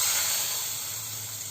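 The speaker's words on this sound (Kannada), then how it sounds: "ಈಗ ಚಟ್ನಿಗೆ ಒಗ್ಗರಣೆಯನ್ನು ಹಾಕ್ತಾ ಇದ್ದೇನೆ" Hot oil tempering with mustard seeds and a dried red chili hisses and sizzles steadily as it is poured into a chutney, a close, continuous spray of sound that slowly fades, with no talking.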